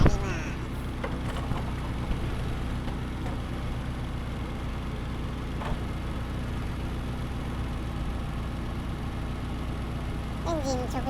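Mitsubishi Lancer EX Turbo engine idling, heard from directly above the cam cover with the oil filler cap open, a steady low mechanical hum and clatter that runs evenly throughout, with a few faint squeaks and a voice speaking.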